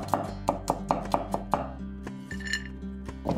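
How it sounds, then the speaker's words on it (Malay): A knife slices thinly through garlic cloves on a board in a steady run of about six close, crisp chops, then a pause and a few scattered lighter knocks. "Iris nipis 5 ulas bawang putih"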